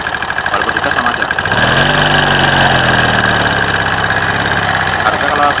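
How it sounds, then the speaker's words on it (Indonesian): A motorcycle engine running dry of oil idles roughly, then gets revved to a sustained, harsh, loud drone that holds steady without smoothing out. "Mogok setelah dipancing pakai oli itu nyala, tetapi suaranya kasar."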